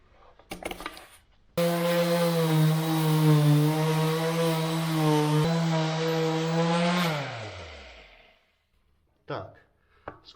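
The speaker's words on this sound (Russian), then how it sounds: "Так, сколько-то пошлифовали," A power sander grinds water-based paint off a wooden windowsill with a steady, droning motor whine that runs for several seconds and then winds down. Brief knocks and handling sounds come before and after it.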